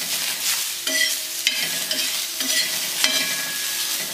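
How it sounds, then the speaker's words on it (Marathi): Green chillies and garlic fry in a little oil on a hot griddle, a loud continuous sizzle broken by spatula scrapes and stirring clatter, with no voices. "लय नाही तेल टाकायचं, मिरच्या फुटत्यात त्या."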